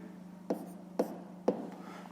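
Pen on paper writing numbers for a fifth-grade maths exercise: three short, evenly spaced scratchy strokes, close and dry, over a faint steady hum.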